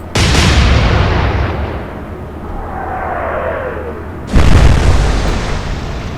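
Heavy naval guns of a German warship thunder in the Atlantic Fleet game, a huge blast decaying into a long rumble before a second booming salvo hits a few seconds later, loud and alone.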